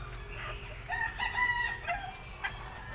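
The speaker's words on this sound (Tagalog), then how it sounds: "Ayun yung isang inahin oh." A hen clucks a few times at close range, short throaty calls spaced irregularly over quiet background.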